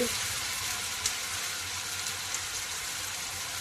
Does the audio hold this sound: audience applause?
no